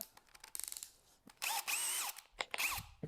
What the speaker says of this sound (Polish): Sprawdzimy, jaka różnica będzie w wierceniu niebieskim Boschem Expert, a jakimś no-name'owym wiertłem łopatkowym